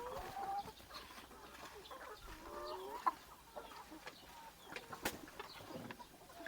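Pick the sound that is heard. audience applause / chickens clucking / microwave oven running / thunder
chickens clucking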